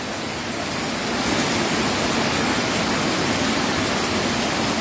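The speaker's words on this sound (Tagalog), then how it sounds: "Umuulan po." Heavy rain falls in a steady, dense hiss near a new bridge during flooding, loud and unbroken throughout.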